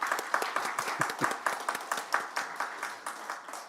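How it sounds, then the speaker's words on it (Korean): A church congregation at a Sunday service gives a round of applause, a quick, rhythmic patter of many hands clapping together at a moderate, steady level, with no speech over it. "그래서 예배 잘 드리라고 박수 한번."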